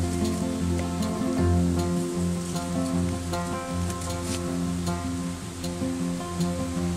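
Rain falls steadily during a fishing outing, a continuous hiss and patter laid over a low droning hum, with scattered sharper drips throughout and no voices.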